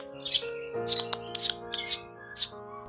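Young house sparrow chicks chirp in five or six short, bright bursts spaced about half a second apart, close by, over a steady low electrical hum with no talk.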